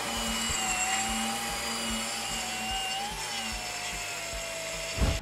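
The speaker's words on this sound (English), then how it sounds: "Once the system is assembled, turn on the vacuum, then the tool to begin use." Hilti angle grinder running with a dust-extraction shroud and vacuum hose attached, a steady loud whine and whir with a shifting motor tone throughout, ending in a short burst of noise.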